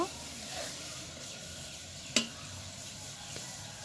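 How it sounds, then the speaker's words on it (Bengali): Onions browning in hot oil sizzle with a steady, moderate hiss, broken by one sharp clink of a utensil partway through. "পেঁয়াজ বাদামি করে ভাজা হয়ে গেছে,"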